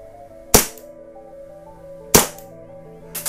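A WE M92 gas airsoft pistol fires three sharp, loud cracks, the first two about a second and a half apart and the third after a shorter gap, with a low steady hum between them.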